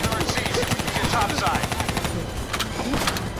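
FAMAS rifle gunfire in the Black Ops 3 campaign, a dense stream of rapid automatic shots with clattering bursts close by, continuous over a few seconds with voices faintly mixed in.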